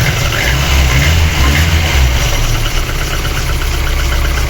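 A VAZ 2109 car engine idles steadily with a cylinder misfire and lost compression, a low, uneven rumble and faint irregular knocking, a rough running note throughout with no talking.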